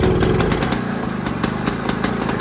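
A 1967 Lambretta scooter with a sticky throttle and rust problems in its fuel tank runs close by, with a steady, rapid two-stroke putter and slight rhythmic pulsing, loud and alone.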